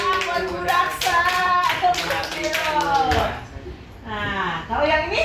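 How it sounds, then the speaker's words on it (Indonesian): During an Indonesian teacher-training presentation, a group claps in quick, scattered bursts while voices talk over and between the claps. "Baik, tepuk tangan buat Bu Raksa."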